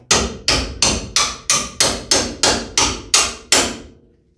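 Eleven sharp, evenly spaced hammer blows strike an alignment punch while a strut is swapped on a 2005-2017 Nissan Frontier, each hit loud and close with a short ringing decay, steady rhythm, no talking.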